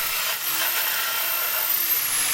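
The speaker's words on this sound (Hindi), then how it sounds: "जमे हुए कैल्शियम को निकालने के लिए हम पीतल के बने हुए ब्रश का प्रयोग करेंगे" A brass wire brush scrubs hardened calcium deposits off the stainless steel drum sheet of an old IFB Executive Plus washing machine being overhauled, giving a continuous loud, close, hissing rasp with no pauses.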